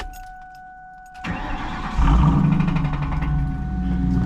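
Car with SLP Loudmouth resonators cranking and firing up, a short starter whir followed by the engine catching into a loud, rumbling idle close by, with no talk over it.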